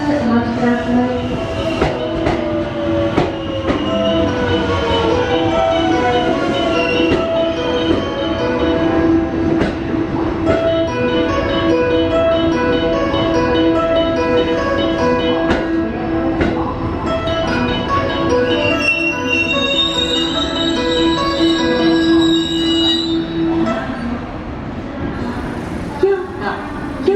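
A 281 series Haruka limited express train pulls slowly into Kyoto Station, its motors whining and wheels squealing over a steady rumble, while platform announcements play over it.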